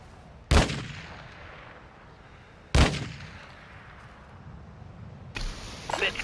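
Gunfire in a video game: two sharp, loud single shots a couple of seconds apart, then a burst of crackling shots near the end over a low ambient hum.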